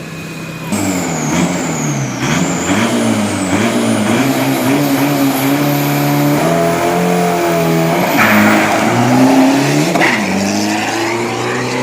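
A Pro 3000 F55 pickup truck with a 1.9 turbo engine accelerating hard on a 402 m drag strip, loud and close, its engine note climbing through several gear changes with brief dips between shifts, no voices over it.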